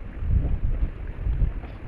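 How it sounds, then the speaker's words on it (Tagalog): Strong wind buffets a fishing boat out at sea in bad weather during the southwest monsoon, a steady low roaring rush with surging gusts close to the microphone, no voices. "Malakas yung hangin, guys."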